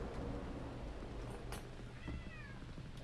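A cat in the video game Hogwarts Legacy meows close and clear, one drawn-out rising-and-falling call near the end over a steady low game ambience.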